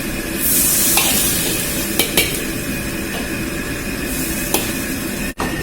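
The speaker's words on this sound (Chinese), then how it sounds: "放入料酒，把酱汁炒香，加入适量的水" Mapo tofu sauce with fermented black beans, chili and cooking wine sizzles in a wok as a spatula stirs and scrapes, with a steady frying hiss, a few sharp metallic taps and a gush of added water.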